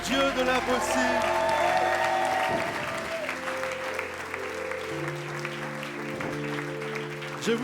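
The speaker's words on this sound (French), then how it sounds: "Est-ce qu'on peut applaudir encore plus fort le Dieu de l'impossible?" A church congregation applauds in a loud, sustained wash of clapping that fades into background music with talk.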